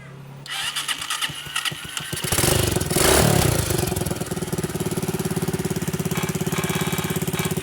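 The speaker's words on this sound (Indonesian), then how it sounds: "motor ini menyala hidup" A Yamaha RX King two-stroke motorcycle being kick-started and revved hard, then settling into a loud, steady, rapidly pulsing idle close by.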